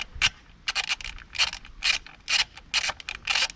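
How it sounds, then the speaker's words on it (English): A 10mm socket and ratchet loosening spark plug cover bolts on a Peugeot 107, a sharp repeated clicking in regular bursts of ratchet strokes, close and clear with no talk. "now we're gonna need a 10mm socket and ratchet, and then we're gonna be able to undo these ones"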